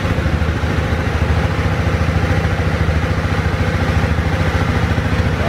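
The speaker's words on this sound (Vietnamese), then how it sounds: "sẽ thử nổ máy cho anh em nghe thử chứ" A motorcycle engine idles steadily nearby with a fast, even putter and a mechanical clatter, holding a constant pace throughout.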